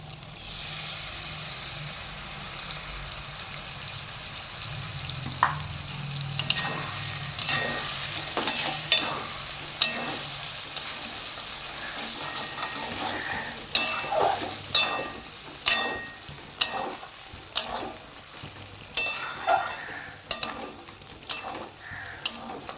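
Pointed gourd frying with spices in a pan, a soft sizzle under repeated sharp scrapes and knocks of a spatula stirring, the strokes coming in an irregular rhythm that quickens toward the end.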